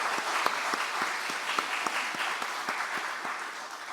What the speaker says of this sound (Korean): 선생님들 위해서 다시 한번 격려의 박수하도록 하겠습니다